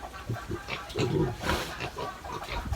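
A sow grunts while receiving a vitamin injection on a pig farm, with several short, close grunts and snorts that come in uneven bursts across the clip and no talk over them.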